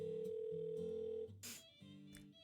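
A phone call tone from the video game DDLC Salvation Remake plays as a steady electronic tone, then shifts into shorter ringing pulses, alone without talk.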